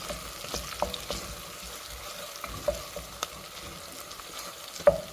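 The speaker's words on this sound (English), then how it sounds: "The reason you have to stir each and every time is to make sure that it doesn't burn." Boiled meat stirred in a pan for pilau, with a soft, steady sizzle under repeated scraping and light knocks of the spoon against the pan.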